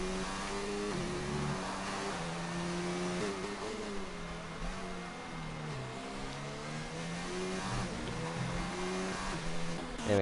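Formula 2 cars race at the Germany round of a racing video game league, engines whining and revving steadily with gear-shift pitch changes as several cars run close together, with no talk.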